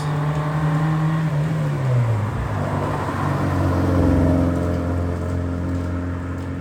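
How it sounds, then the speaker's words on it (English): A car with a Honda K20a Type R engine and individual throttle bodies cruises past, its engine note sliding down in pitch as it goes by, then a steady nearby drone with strong induction sound, no voices. "So now a bit of drive-by, just cruising, of course."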